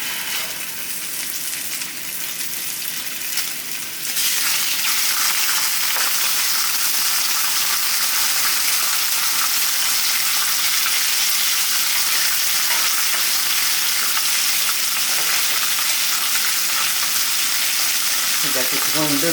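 Grouper fillets searing in a very hot pan give a loud, steady sizzle and crackle that swells in suddenly after a few seconds of quieter frying, then stays dense and even to the end, up close.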